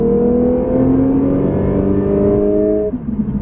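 A 2016 Lexus RC 300 F Sport with all-wheel drive accelerates hard from about 35 mph. The engine note climbs steadily for nearly three seconds, then drops abruptly at a gear change, loud and close.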